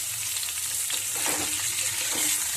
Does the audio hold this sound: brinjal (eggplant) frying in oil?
yes